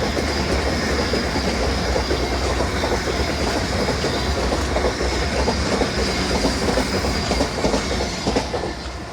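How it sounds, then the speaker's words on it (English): A train runs past the seafront at Teignmouth, loud and close, with a continuous clickety-clack of wheels on rails and a steady rumble that holds for several seconds before easing slightly. "Train."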